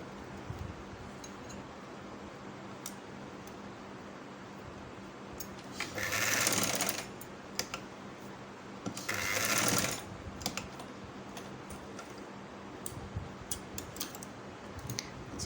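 Sewing machine stitching both ends of a child's gathered sleeve, heard in two short whirring bursts of several seconds each, separated by quiet pauses, with occasional soft clicks and no talking.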